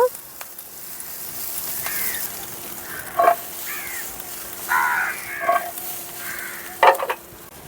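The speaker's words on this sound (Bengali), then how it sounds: "পেঁয়াজ কুচি সব ভেজিসগুলো হাই ফ্লেমে ভালো করে ফ্রাই করে নেব" Chopped onion, ginger and capsicum for chilli paneer frying on high flame, a steady loud sizzle broken by several crow caws in the background, with faint talk.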